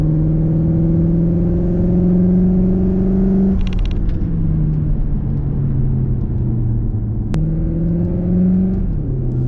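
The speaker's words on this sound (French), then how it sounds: "ce Cupra Formentor qui pousse comme on le voit" A Cupra Formentor accelerates hard, its engine note climbing steadily and loudly, broken by two brief shift-like pauses before the pitch rises again, with steady road rumble underneath.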